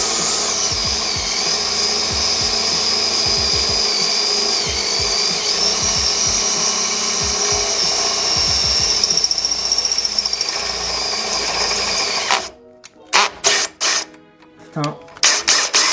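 Power drill whines steadily while boring holes in a BMW E46 or Jeep Cherokee XJ, with a constant squealing tone and scraping, then stops near the end as short bursts of handling noise follow.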